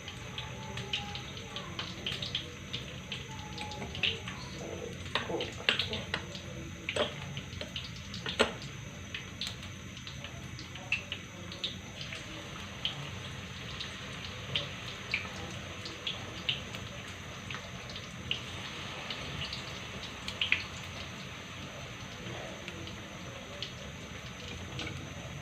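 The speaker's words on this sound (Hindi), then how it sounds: "क्रिस्पी होने तक इसको हम फ्राई करेंगे।" Keema matar pinwheel snacks fry in oil over medium-low heat, giving a steady, close crackling sizzle with scattered pops throughout and no talking.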